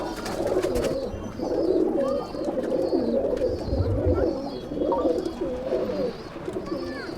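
Madrasi pigeons coo steadily in a loose flock of well over a hundred birds, their soft rolling calls overlapping continuously, with faint higher chirps scattered above.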